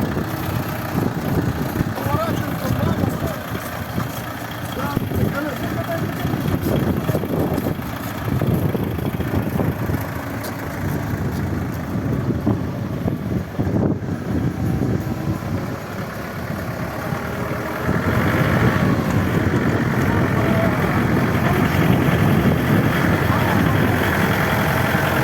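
A minitractor engine chugs steadily at close range throughout as the machine drives forward, its rumble swelling slightly near the end, with people talking over it at times.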